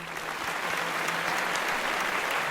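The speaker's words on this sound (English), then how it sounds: "So round of applause to everybody." Sustained audience applause, an even, moderately distant wash of many hands clapping without pause for a couple of seconds, with a faint low hum beneath.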